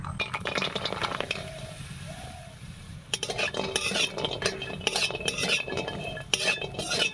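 Mung lentil dumplings sizzle steadily in oil in a pan while a metal utensil stirs, scrapes and clinks against it.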